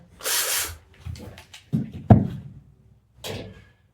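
A DeWalt drill fitted with a drum lug chuck, backing lugs off a drum kit, comes in short bursts of whirring with knocks and clatter between them. It sounds close and loud.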